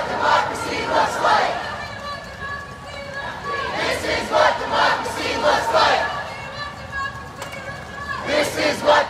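Protest crowd chanting in a city street during the George Floyd protests in Charlotte, NC, with rhythmic massed voices rising in repeated waves, fairly close and steady throughout, with a few brief lulls.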